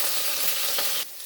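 Eggplant frying in hot oil in a home Bengali kitchen, giving a steady loud hiss and crackle that drops to a quieter sizzle near the end.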